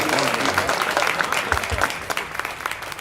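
Audience applause at a Hindi comedy poetry show, a steady, dense patter of many hands that holds at an even level for a few seconds before thinning slightly.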